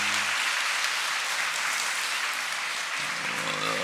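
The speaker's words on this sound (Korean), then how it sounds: "우리 같이 한번 박수하겠습니다" A church congregation applauds together for a visiting family standing up during a testimony service, a dense steady wash of many hands clapping that fills the room at moderate loudness, with a brief spoken voice at the start and end.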